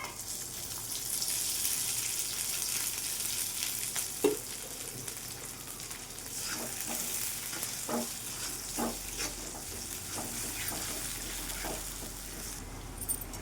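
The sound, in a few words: onions frying in oil for drumstick curry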